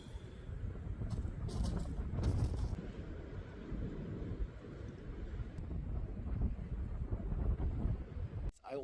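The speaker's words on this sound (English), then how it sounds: "it's much colder in this wind, and it's relentless" Strong, relentless wind batters the microphone on a frozen lake during an ice-fishing trip, a loud continuous low rumble with gusty surges and no clear speech.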